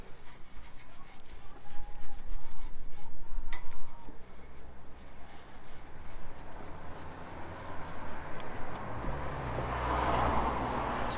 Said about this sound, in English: remember, circular motions when you're actually doing your polishing.